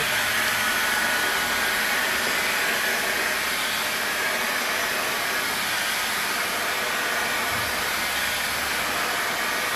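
A heat gun blows continuously while heating 3M vehicle wrap film, a loud, steady, unbroken rushing hiss lasting the whole stretch with no talking.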